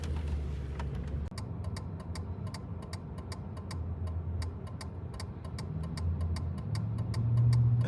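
A car engine idles low and steady after being put in gear, joined by a quick regular ticking like a turn signal, close and moderately quiet with no talk.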